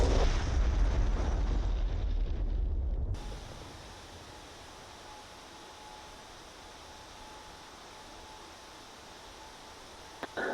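A bomb from a night strike in the DCS flight simulator hits a search radar with a loud, rumbling blast for about three seconds. It then cuts off to a faint, steady hum.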